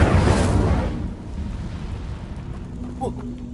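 The Incendio fire spell goes off in a Harry Potter video game as a loud, roaring burst that fades over a second into a lower rumble, with a few faint small effects afterward.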